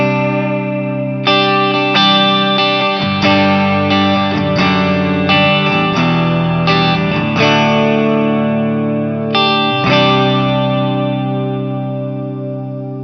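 A Tagima Jet Blues electric guitar in pickup position 5 plays clean, dark-toned chords and sustained notes, strummed in several ringing strikes with a slow decay, loud and alone.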